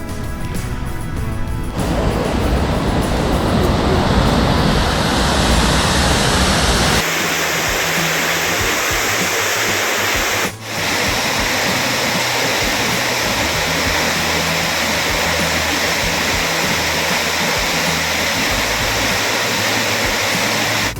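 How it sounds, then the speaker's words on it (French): Gimel waterfalls in Corrèze, France, a loud, continuous roar of rushing water that is nearby and unbroken, shifting slightly in tone partway through as the position changes. "Voilà, nous voici à Gimel les Cascades."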